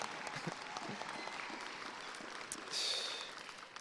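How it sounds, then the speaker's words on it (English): Graduation audience at an alternative high school ceremony applauding steadily for several seconds, a dense crowd clapping that swells briefly louder near the end, with some cheering mixed in. "Clap for yourselves"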